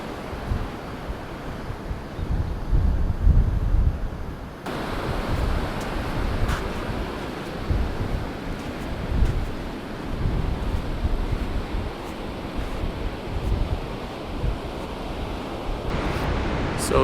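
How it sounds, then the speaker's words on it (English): Strong wind buffets the microphone at a beach as ocean waves surge and break continuously. The rumbling wash is loud and close, with gusty swells of noise throughout. "So the wind is pretty strong"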